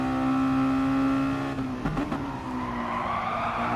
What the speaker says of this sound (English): Hit the brakes, down into the right-hander.